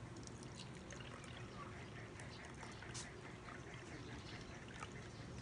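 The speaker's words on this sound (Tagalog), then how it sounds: "So, I'm gonna put the water here." Water is poured steadily into a container, a faint, continuous trickling wash with no pauses, heard alone at low level.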